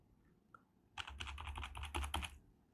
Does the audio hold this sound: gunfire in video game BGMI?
no